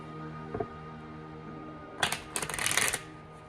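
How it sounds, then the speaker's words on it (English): A deck of oracle cards being shuffled by hand: a brief riffle near the start, then a longer burst of flicking, snapping card sounds, close and crisp against a quiet room hum. "Let me shuffle these first"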